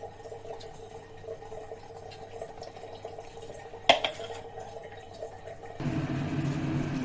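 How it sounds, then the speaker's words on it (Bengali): Cooking oil poured into a hot pan on the stove: a faint, steady background hiss that jumps into a louder, bubbly sizzle after several quiet seconds, with a short clatter just before. "ভারী গরম হলে আমি তেল দিয়ে দিলাম পরিমাণ মতো"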